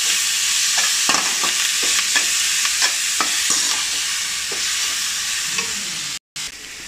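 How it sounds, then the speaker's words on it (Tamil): Onion, tomato and curry leaves sauté in a pan with a constant loud sizzle, broken by a series of scraping stirs from a spoon at close range before a brief cut near the end. "லைட்டாக வணக்கிக்கோங்க."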